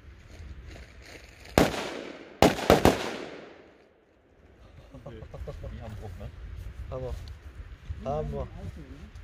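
C-class firecrackers go off on New Year's Eve in sharp, loud bangs, one single blast followed by a quick cluster of three, then fading crackle while people talk afterward.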